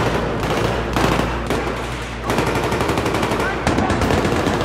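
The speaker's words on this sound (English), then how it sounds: "What are you shooting at?" Sustained automatic machine gun fire from the video game Battlefield 3, loud rapid bursts with brief pauses between them, dense and continuous across the whole stretch.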